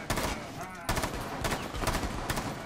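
Video game gunfire crackles in bursts of short, loud shots across the whole span, with a brief lull partway through and faint voices underneath.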